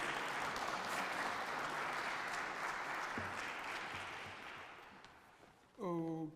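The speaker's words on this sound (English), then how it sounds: "Can we give a round of applause?" A conference audience breaks into a sustained round of applause at a morning opening session, steady and full for several seconds before thinning, then a voice starts speaking over the tail end.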